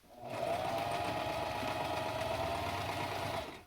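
A sewing machine stitches steadily over the end of a fabric mask, a close, even mechanical whir that starts abruptly and runs continuously for a few seconds, with no talking.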